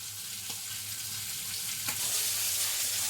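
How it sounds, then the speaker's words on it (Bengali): Lentils (dal) set on to cook in hot oil give a steady, close sizzle with a couple of faint clinks and a slight swell near the end. "ডালটা বসালাম ফ্রেন্ডস, দেখো"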